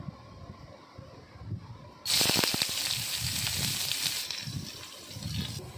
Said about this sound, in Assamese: এতিয়া কেৰাহীত অকণমান তেল দি ইয়াতে পিঁয়াজ অকণমান দি ভাজি ল'ম